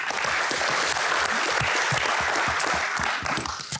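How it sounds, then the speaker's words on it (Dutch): A live audience gives steady, dense applause to welcome a speaker at a Dutch panel event on agriculture, sustained at full level for several seconds and tapering slightly at the end. "Geef een warm applaus"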